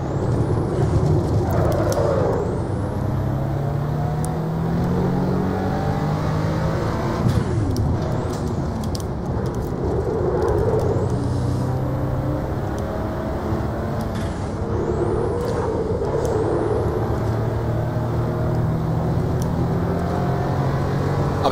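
Ruf CTR Yellowbird engine lapping the Nürburgring in Assetto Corsa, revving up through repeated gear changes with rising pitch sweeps and brief drops between shifts, a steady loud drone.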